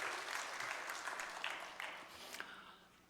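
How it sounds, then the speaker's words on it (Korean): Congregation applause at a Sunday church service on Thanksgiving Sunday, a steady wash of many hands clapping together at moderate level, sustained for the whole stretch with no talking over it. "우리 주님께 영광의 박수 한번 올립시다"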